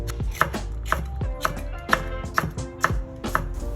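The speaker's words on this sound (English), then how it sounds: "Take 2 chilies and slice them like so." Knife slicing two chilies on a cutting board, a steady series of about eight crisp, evenly spaced cuts with soft thuds of the blade meeting the board, close and clear with no talking.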